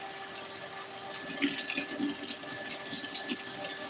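Faint watery splashing and trickling as food goes into a pot of hot water on a home stove, a few soft sloshes over a low steady hum.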